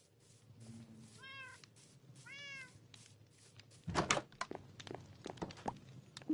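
Two clear cat meows from a Minecraft cat, close and distinct, followed by a cluster of clunky thuds and block or footstep sounds within the game.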